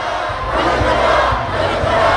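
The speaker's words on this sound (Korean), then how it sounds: "자, 윤석열 정권 규탄한다" Crowd of protesters at an outdoor street rally in Seoul chanting and shouting together, a dense continuous roar of many voices with rhythmic pulses of the chant, loud and close throughout.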